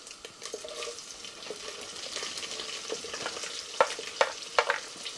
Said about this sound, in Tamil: இப்போ வெட்டி வச்ச வெங்காயத்தை போட்டாச்சு.